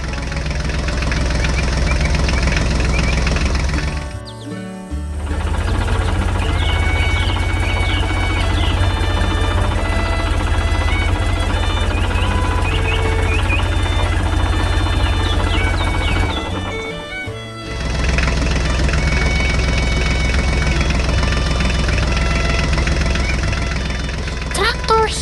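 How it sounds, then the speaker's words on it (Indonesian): A green tractor engine runs loud and steady with a knocking, chugging idle, cutting off briefly twice before resuming, with music-like tones layered over it. "Traktor hijau dengan roda kuning membawa karakter lucu di tengah kebun"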